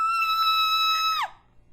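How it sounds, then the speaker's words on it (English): A single high, shrill scream holds a steady, bright pitch for over a second, then cuts off sharply with a quick downward slide, loud and alone. "Frustrated, I left out an ear-piercing scream."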